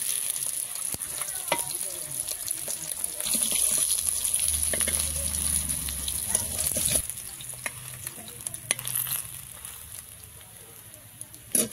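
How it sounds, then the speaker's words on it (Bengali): Pieces of fish frying in hot oil in a kadai: a steady bright sizzle with crackling and spatter, plus occasional clinks and stirring clatter of a utensil, close and continuous. "কিছুটা মাছ ভেজে নিয়েছি"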